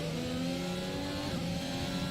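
Race car in a Formula racing video game on the Hungarian Grand Prix circuit, a continuous high-pitched engine whine that shifts in pitch as the car passes, loud and without talk.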